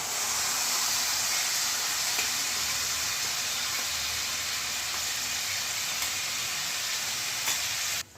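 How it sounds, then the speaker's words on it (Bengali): Ground spice paste fries in hot oil in a wok, with whole black peppercorns already in the oil for a paneer gravy, giving a loud, steady, close sizzling hiss that cuts off abruptly at the end. "এবার মিক্সিতে বেটে রাখা মশলাটা আমি কড়াইয়ের মধ্যে দিয়ে দিলাম।"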